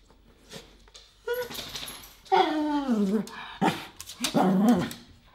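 Dogs bark, yip and whine in an apartment, several excited bursts with rising and falling whimpers, close and fairly loud.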